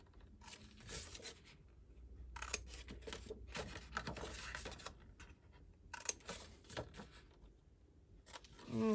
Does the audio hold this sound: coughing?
no